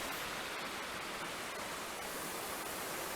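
A waterfall in Van Sickle Bi-State Park near the Tahoe Rim Trail, running at high flow from snowmelt, gives a steady, dense roar of rushing water that holds even throughout, with no voices.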